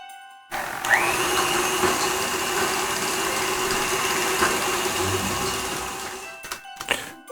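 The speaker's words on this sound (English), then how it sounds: "Now you want to whisk on a high for a couple of minutes." Electric hand whisk running steadily on high speed, beating cookie batter with vanilla essence in a bowl; a continuous whirring drone lasts several seconds, then stops abruptly with a few clicks near the end.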